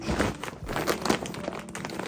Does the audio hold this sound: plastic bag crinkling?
yes